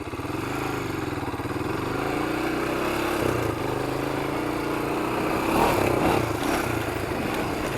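A 1993 Honda 300EX ATV engine runs steadily through its stock muffler, a close, continuous mid-pitched drone with a slight swell in revs near the end, heard alone without talk.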